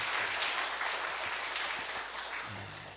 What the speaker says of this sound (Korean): 정말 박수 한번 쳐주죠.